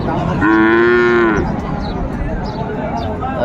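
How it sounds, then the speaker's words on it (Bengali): Dairy cows and calves at a livestock sale in Pabna give one loud, close, drawn-out moo lasting about a second, with a busy murmur of voices and noise behind it. "গাভী বাছুর বেশ সুন্দর কোয়ালিটির"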